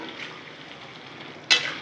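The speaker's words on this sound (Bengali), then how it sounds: "এখন আমি চিকেনটা যে ম্যারিনেট করে রেখেছিলাম ওটা দিয়ে দিলাম।" Marinated chicken with onion hits a hot pan, a quiet low sizzle that jumps into a sharp, loud hiss partway through as the meat goes in, then settles into steady frying.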